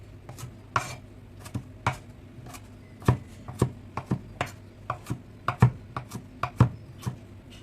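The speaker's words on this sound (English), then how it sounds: "chopping some parsley" Knife chopping parsley on a board, a steady series of sharp, close knocks at an uneven rhythm, some louder than others, with no talking.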